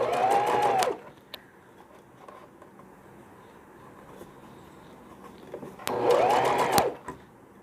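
An electric sewing machine stitches piping onto a baby frock in two short, steady bursts of fast whirring, separated by several seconds of quiet room sound.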